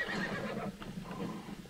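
A horse in the video game Assassin's Creed Odyssey lets out a single clear whinny that rises and then trails off, close and alone, over faint background.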